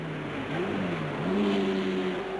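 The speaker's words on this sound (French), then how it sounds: "Vous avez entendu le bruit des moteurs de la 7? Ça fait un bruit, hein?" Alpine Renault race car engines at the 1978 Le Mans 24 Hours, a steady droning engine note rising in pitch, heard at moderate distance amid track ambience, no talking.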